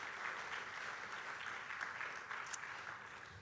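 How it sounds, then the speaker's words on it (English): A church congregation applauds to welcome guests before services, producing steady, moderately faint clapping from many hands that lasts throughout without any speech. "let's give them a round of applause and a warm welcome as well."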